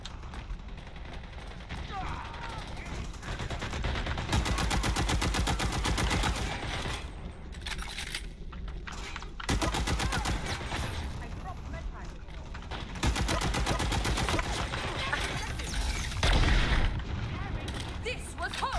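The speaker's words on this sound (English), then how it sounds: "They're really going crazy with that artillery." Artillery fire in the video game Dirty Bomb, heavy booms and rapid gunfire bursts rolling in waves with short lulls, loud and close, with voices heard now and then.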